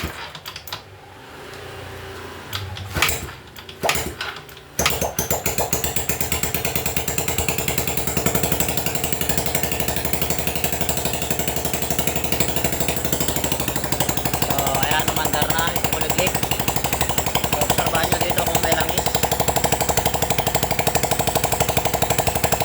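A Yamaha Mio Sporty scooter after a block and timing install, with a few sputtering attempts and bangs, then the engine catching and idling loudly and steadily nearby.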